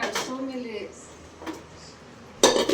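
A pressure cooker is picked up and set onto a stove: a metallic clank of pots early, quiet handling in between, then a sharp louder metal clatter at the end, close by.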